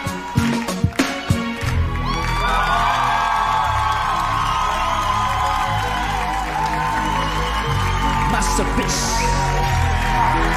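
Studio audience at a Chilean TV singing competition applauding and cheering loudly after a singer impersonation, a sustained wall of claps, whoops and shouts with a host's voice briefly heard at the start.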